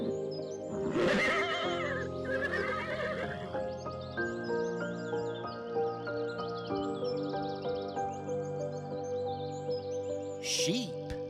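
A horse gives a loud, close whinny near the start, followed by quieter snorts and calls with faint bird chirps, ending in a brief high call.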